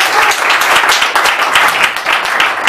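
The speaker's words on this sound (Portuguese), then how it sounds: "Eu quero que você receba o pastor Júlio com as palmas para Jesus" A church congregation claps together in an energetic, uneven burst of applause, many hands close and loud across the whole short stretch, with no talking over it.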